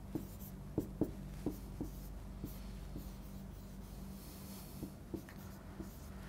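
Pen or pencil writing a math solution by hand, soft scratchy strokes and light taps at an irregular pace, faint and close up.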